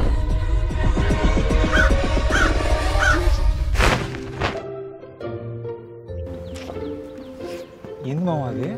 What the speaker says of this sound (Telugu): క్రో ది కాకి.